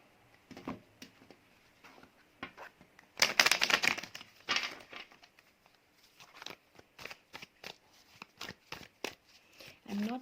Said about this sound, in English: all the cards I'm going to shuffle and see what you get